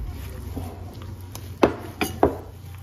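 A utensil mixing chicken nugget ingredients in a bowl, producing close clinks and scrapes against the bowl, with a few sharper knocks near the end over a low background hum.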